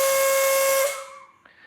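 Pressurized oxygen rushes from the end of a tube attached to a gas cylinder with a loud, close, whistling hiss. The hiss holds steady, then quickly weakens to a faint flow as the valve is turned down.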